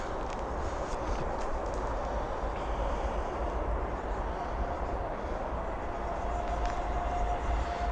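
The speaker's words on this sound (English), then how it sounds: "we'll just stop and watch this train go past" An express passenger train rumbles past at a distance, a steady broad roar of wheels and engine that stays even throughout, with faint background noise.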